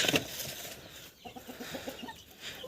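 Broody hens being settled onto eggs in a poultry shed cluck softly and intermittently, with a short rustle of wings at the start, faint and close.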